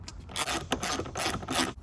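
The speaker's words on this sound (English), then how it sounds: "Just pop these 2 screws out." T30 door screws on a GR86 door are turned out by hand, giving short, close scraping and ratcheting rasps in quick bursts over about two seconds.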